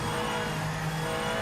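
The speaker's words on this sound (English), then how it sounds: "I love the sound of the AMG" Steady, loud engine drone of an AMG GT race car in Project Motor Racing, held at high revs with a buzzing, harmonic tone and no pauses.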